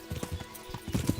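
Hooves of a horse in Kingdom Come: Deliverance clop in a quick cluster of close, muffled strikes over just over a second.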